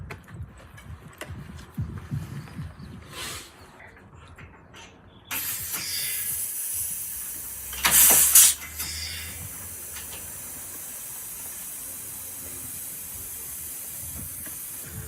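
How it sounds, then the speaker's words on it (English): Compressed air blowing in a small single-car home garage during a restoration, a steady hiss coming in partway through and running to the end, with a louder sharper blast in the middle. "Out if I put the compressed air on."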